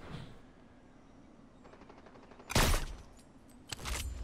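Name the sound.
sniper gunfire in the video game Fortnite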